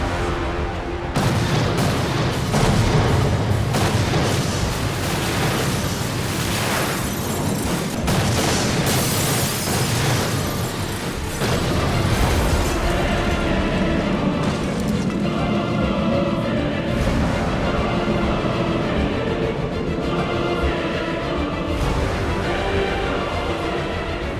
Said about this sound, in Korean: 결국 건물은 폭발하게 되는데